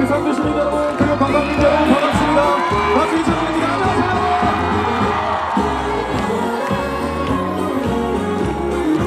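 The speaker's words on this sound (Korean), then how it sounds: "박수로 모십니다" A festival crowd cheers and whoops for a singer's entrance, loud, dense shouting and cheering from many people close around, with rhythmic music thumping underneath throughout.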